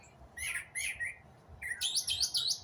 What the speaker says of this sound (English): I just give you a moment to just listen to that golden nightingale.